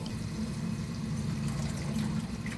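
Chaeto algae rinsed in aquarium water from a reef tank holding Acropora corals, giving continuous close sloshing and splashing with a steady watery rush throughout.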